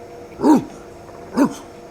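A dog barks twice, two short, close, distinct woofs about a second apart against a quiet background in a radio drama.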